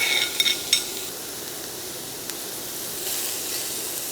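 Mushrooms frying in oil give a soft, steady sizzle and hiss close by, with a few light clinks and stirring sounds near the start, no voices.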